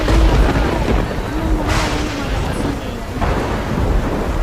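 Deep rolling thunder rumbles continuously through a stormy night, with low booming swells and a broad wash of rain-like noise as a typhoon approaches.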